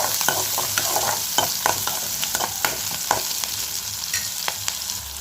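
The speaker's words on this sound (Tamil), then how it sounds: "வெங்காயம் பச்சை மிளகாய் ரெண்டையும் சேர்த்துக்கலாம் இப்போ இதை நல்லா வதக்கி விட்டுக்கலாம்" Onions and green chilies sautéing in a pan, with steady close sizzling broken by repeated scraping stir strokes of a spoon against the pan; no voices.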